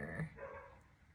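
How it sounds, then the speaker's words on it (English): A dog barks once or twice, faint and in the distance, over a low background murmur. "Damn dog."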